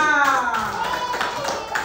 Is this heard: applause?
yes